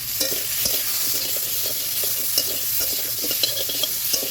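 A curry is stirred in a pan with turmeric and salt for a fish curry, a spoon scraping in short irregular strokes over a steady frying sizzle, close and moderately loud, with no talking.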